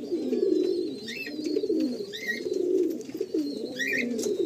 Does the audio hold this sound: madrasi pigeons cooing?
yes